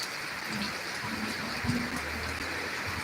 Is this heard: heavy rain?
yes